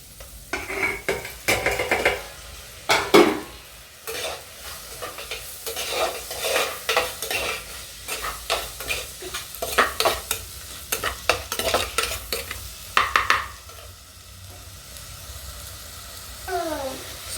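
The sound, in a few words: tomatoes being sautéed with onions in a pan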